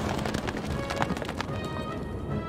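Horse galloping in the Stronghold Crusader strategy game, a steady run of clip-clop hoofbeats over a busy game soundscape, fairly close and continuous for a couple of seconds.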